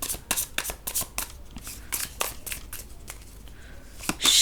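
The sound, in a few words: shuffling tarot cards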